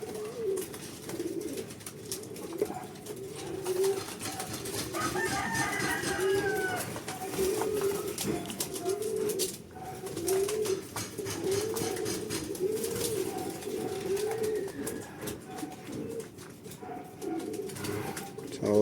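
Pigeons coo continuously in a low, rolling murmur, many birds overlapping at close range for a long stretch.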